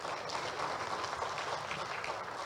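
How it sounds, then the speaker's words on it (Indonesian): Steady, dense clapping fills the hall at an award ceremony for a book review competition. The applause holds at an even level throughout, with no voices standing out. "Kalau boleh tepuk tangan"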